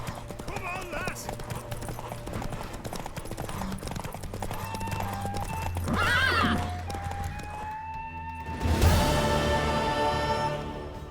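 Horse hooves clip-clop steadily in The Witcher 3, with a loud whinny near the end, all under game voices talking.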